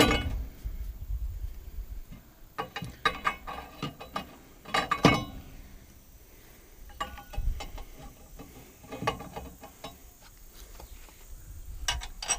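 Faint metallic clinks and clicks scatter through quiet as new filters are handled and fitted into the hydraulic oil reservoir of a Monaco Dynasty RV, with a few louder knocks around the five-second mark.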